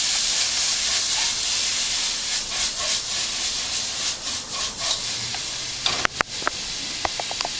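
Frozen mixed vegetables and bacon sausage stirred in a hot pan for fried rice give a steady loud hiss and sizzle, with scraping strokes and a few sharp clinks of utensil on pan near the end.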